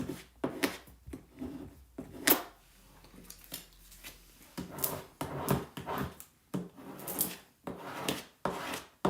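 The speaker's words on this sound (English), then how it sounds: "Then we'll squeegee all this" A squeegee rubs and scrapes transfer tape down onto a wooden shiplap farmhouse sign in a series of short, soft, close strokes with brief pauses between them.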